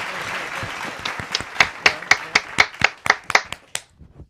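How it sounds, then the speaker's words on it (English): Audience clapping begins as a scattered patter, then settles into loud, evenly spaced unison claps that keep a steady beat before fading out. "Can we get a clap?"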